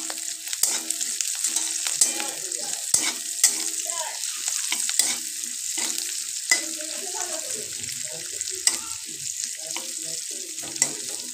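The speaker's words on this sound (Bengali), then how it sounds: "এগুলো সব একসাথে তেলের সঙ্গে ভালো করে আমি ভেজে নেব। সঙ্গে কয়েকটা কাঁচা লঙ্কা চেরাও দিয়ে দিলাম। এবার কিছুক্ষণ খুন্তির সাহায্যে নাড়তে থাকবো।" Spices and slit green chillies fry in oil for an egg korma while a spatula stirs them, giving a steady close sizzle broken by frequent sharp scrapes and clacks against the pan.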